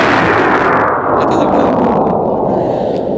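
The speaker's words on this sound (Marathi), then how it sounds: "तोफेला बत्ती दिली, धडाड धुम आवाज करत" A cannon fires in a heavy, sustained roaring blast with a long rumbling decay, loud and close, an effect for a story of a gunpowder-loaded cannon shelling a fort.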